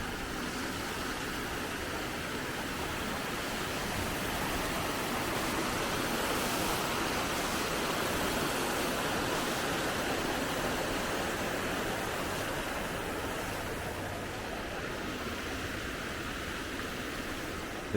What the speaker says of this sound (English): Waterfall goes down here.